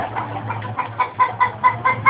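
Chickens in a backyard give repeated short clucks in an uneven rhythm, moderately close, over a low steady hum.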